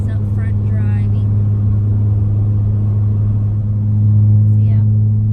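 Car driving on the road on the way to the beach, heard from inside as a steady, loud low engine and road drone that never lets up, with faint voices now and then.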